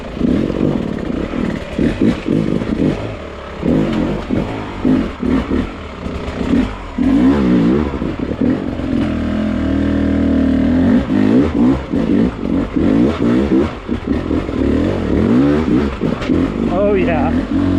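Motocross motorcycle engine revving and surging continuously while riding a dirt course, loud and close with the pitch rising and falling through turns, with a rider talking over it.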